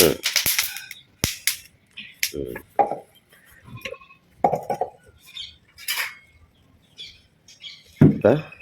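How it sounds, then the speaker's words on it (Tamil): Black peppercorns dry roasting in a pan, crackling with sharp, scattered pops and snaps at irregular intervals, close by, while a person talks intermittently. "மிளகு கொட்டை நல்லா வெடிக்கும், படப்படன்னு"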